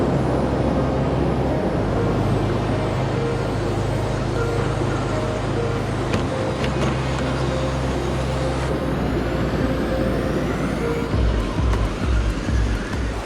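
An Element Enduro Bushido 4x4 RC crawler grinding over rocks, its electric motor whining steadily and loud with rattling, clicking knocks from the chassis near the end.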